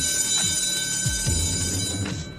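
A loud buzzer sounds in an anime scene, a steady sustained electronic tone with falling low rumbles beneath it, continuous for a couple of seconds with no talking.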